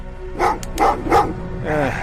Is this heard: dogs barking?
yes